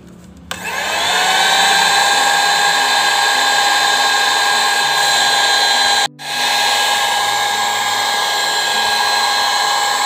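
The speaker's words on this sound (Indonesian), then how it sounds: "Setelah proses mixer sampai tanda-tanda bongkahan sudah tidak nampak ya, kita hentikan pemixeran" Electric mixer whirring steadily while blending a JADAM wetting agent solution, a loud continuous high whine that briefly cuts out and restarts midway.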